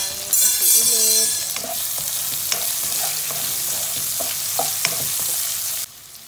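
Onions sauté in a hot pan with a loud hiss that settles into steady frying, punctuated by repeated spatula scrapes and taps before cutting off near the end.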